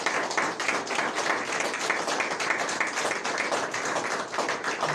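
A church congregation at a Sunday service applauds steadily, a dense wash of many hands clapping at an even moderate level without pause, with no speech over it.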